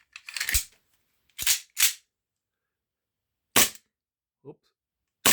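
Airsoft guns fired in single shots during a test series, sharp close snaps with quiet gaps between them, the first few in quick succession and a softer click near the end.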